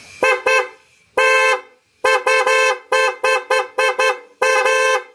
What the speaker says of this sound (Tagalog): Yan yung busina, yan o.